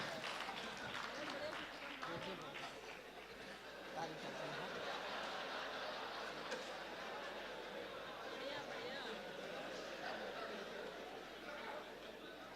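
A Hindi comic poetry gathering audience clapping and chattering, a continuous dense wash of applause mixed with crowd murmur and some laughter, steady and moderately distant.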